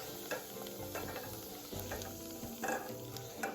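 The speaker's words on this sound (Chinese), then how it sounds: "盡可能將每一面都煎一煎。" Potato pieces pan-frying in oil until lightly browned on every side, for Nyonya pongteh chicken: a steady close sizzle broken by scraping and clinking as the pieces are turned.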